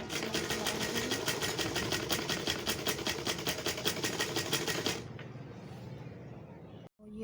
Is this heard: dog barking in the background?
no